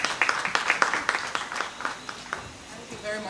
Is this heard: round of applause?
yes